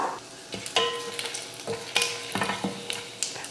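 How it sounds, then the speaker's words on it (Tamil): Mustard seeds and dried red chilies in hot oil: the oil sizzles and crackles as the seeds pop and spatter, with a few stirring scrapes and clinks of a pan up close. "எண்ணெய் காஞ்சதுமே கொஞ்சம் கடுகுலுந்து அடுத்து ரெண்டு வரமிளகா"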